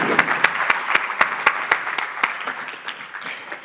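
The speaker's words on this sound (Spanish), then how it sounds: "Fuerte aplauso" An audience at a live event at La Rambleta, Valencia, applauds with sharp, distinct claps, starting fairly loud and tapering off over a few seconds.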